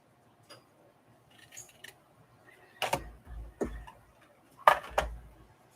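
Scissors cut paper ephemera for an art-therapy craft project: a few crisp, close snips in short bursts separated by quiet pauses, with faint handling sounds between cuts.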